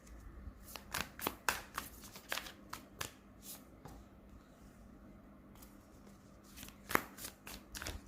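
Tarot cards being shuffled and laid down on a table, giving a string of crisp slaps and riffling flicks in uneven bursts, with quieter handling between them and no speech.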